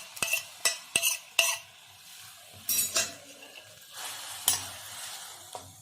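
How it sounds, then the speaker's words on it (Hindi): Ginger paste roasts in a wok as a spoon stirs and scrapes it, with several sharp metallic clinks and a soft sizzle between them, close and alone without any talk. "कढ़ाई में डाल के इसको 1 मिनट सेकेंगे।"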